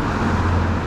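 Steady road traffic on a warm, sunny day, with cars streaming past an e-bike rider waiting to turn; a continuous, fairly loud low rumble and tire hiss from nearby vehicles with no voices.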